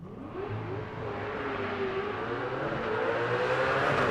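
Small block drag race car launching off the start line, its engine note climbing in a sustained rising rev that grows steadily louder over several seconds, with no voices over it.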